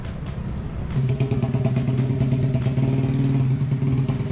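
A rough, rattling old engine idles loudly nearby, then its clattering drone deepens and thickens, with sharp knocks punctuating the steady running.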